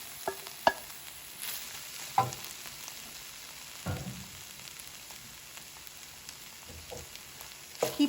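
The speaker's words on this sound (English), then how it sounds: "I'm going to add our quinoa to this skillet." Quinoa toasting in a little olive oil in a skillet for quinoa biryani, a soft steady frying crackle with a few sharper stirring clicks and scrapes scattered through, close and fairly quiet, no talking.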